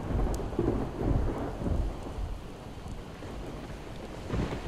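Heavy rain pours steadily with deep rolling thunder rumbling through it in a Project Zomboid game world, a dense continuous storm wash with no voices.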